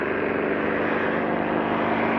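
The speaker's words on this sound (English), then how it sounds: "The plane takes a spinning dive" Old propeller airplane engine droning steadily and loudly as the plane goes into a spinning dive, a continuous dense roar with no break.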